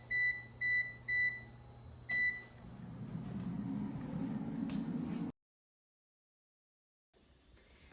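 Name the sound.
air fryer beeping as temperature and time are set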